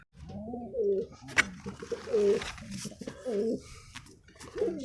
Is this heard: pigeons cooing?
yes